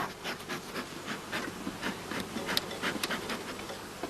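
Honeybees buzzing around an open hive during feeding with granulated blossom honey, a steady dense hum of many insects with brief louder passes of individual bees close by.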